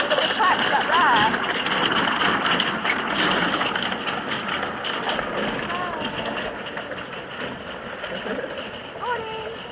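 A canal boat forces its way through a frozen canal, breaking ice as it goes, giving a continuous crunching, splashing texture with scattered cracks. Voices talk and call out over it throughout.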